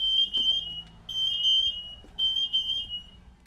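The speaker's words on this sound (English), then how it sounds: "The day after we confront Michelle, she finally sends a repairman in to fix the fire alarms." A smoke alarm emits three long, piercing high-pitched beeps with short gaps between them, loud and close in a quiet room.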